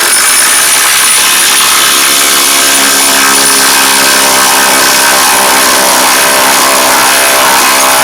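A Makita DTD171 impact driver sinks a screw into timber through a pilot hole drilled short, giving a loud, dense, continuous rattling hammer whine close up for the whole stretch, with no voices.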